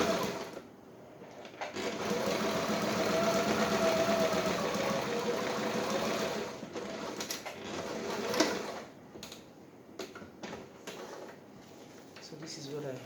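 A sewing machine stitches darts in a basic dress, running in a steady close whir for several seconds, then easing into shorter stop-start bursts, with a voice heard over parts of it.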